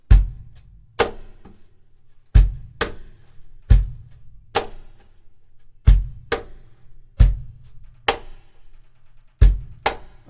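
A cajon groove played faster with a brush in a worship style: a steady pattern of deep bass thumps alternating with crisp slap accents, repeating evenly and up close with no talk.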